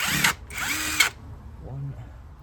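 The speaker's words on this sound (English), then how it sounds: "Let's see if we can get these screws out." A power drill backs screws out of a drain cover in two quick whirring bursts, followed by a softer mechanical sound, close and loud.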